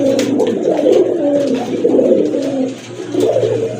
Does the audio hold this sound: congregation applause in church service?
no